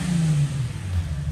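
A Nissan 350Z engine idles with a smooth, steady low purr, close by and fairly loud, with no voices over it.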